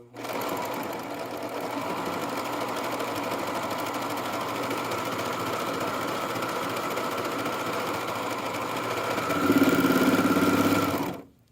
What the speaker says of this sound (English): I've serged this side, so I just need to trim my threads